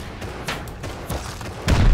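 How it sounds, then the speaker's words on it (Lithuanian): Gunfire in the survival game Rust: several muffled shots and thuds pop over a steady game hum, ending in a louder cluster of heavy booming blasts near the close. "Į mane šaudo."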